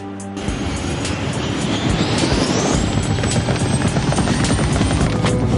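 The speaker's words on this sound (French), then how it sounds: "Venez, nous allons prendre mon hélico." A cartoon helicopter lifts off and flies, its loud, dense rotor and engine roar starting abruptly and holding steady and close throughout, with a rising whine layered above it.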